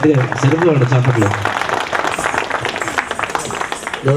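An audience claps at a classical performance at an annual meeting. A sung voice fades out and dense, steady applause follows, with a voice rising again at the end.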